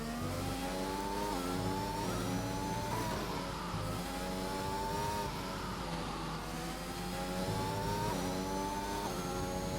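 A McLaren race car engine in a racing video game on a lap of Hungary, droning loud and steady at high revs with smooth pitch rises and brief dips between gears, running alone with no talk.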